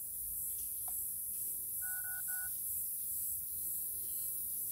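A phone number is dialed on a telephone keypad, a short run of a few distinct DTMF tones clustered mid-clip, clear and close over a steady hiss with no talking.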